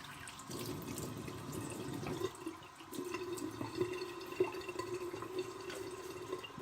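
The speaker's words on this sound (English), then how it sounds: "I'm going to wet my face." Bathroom faucet running steadily into a sink while a face is wetted before a shave, a continuous close splashing stream with occasional small splashes and drips.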